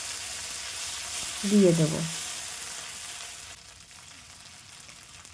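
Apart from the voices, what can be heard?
cumin seeds and spice pastes frying in oil in a wok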